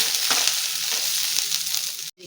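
Garlic and ginger frying in a pan for a horse gram sprout saaru, a steady close hiss of sizzling oil with soft stirring scrapes, stopping abruptly near the end.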